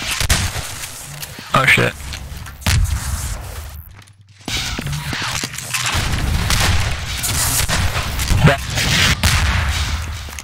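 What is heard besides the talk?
rocket (RPG) fire and explosions in Half-Life 2 Deathmatch video game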